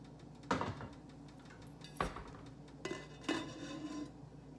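Metal pot lid clattering on cookware while making tuna tetrazzini, a few sharp clanks spaced over several seconds, close and moderately loud with quiet kitchen ambience between.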